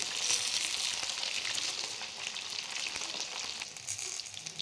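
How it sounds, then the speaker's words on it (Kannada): Chicken pieces for garlic kebab deep frying in hot oil, giving a steady, close hiss and sizzle with faint bubbling that holds throughout, no voices. "ಚಿಕನನ್ನು ನಾನು ಮತ್ತೆ ಡೀಪ್ ಫ್ರೈ ಮಾಡಲಿಕ್ಕೆ ಇನ್ನೊಮ್ಮೆ ಹಾಕೊಳ್ತಾ ಇದ್ದೀನಿ"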